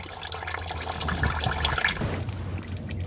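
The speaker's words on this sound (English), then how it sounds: "There's the oil from the chute." Engine oil drains from the pan of a 2.3L Ford Bronco during an oil change, a steady close liquid pour with splashing and dripping that thins out toward the end.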